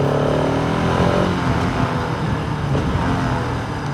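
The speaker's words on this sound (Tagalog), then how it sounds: "Pantay ng mga ganitong tunog ng makina eh." A KTM motorcycle engine runs loud and close, its rough, throbbing drone holding steady with slight swells in revs throughout and no voices over it.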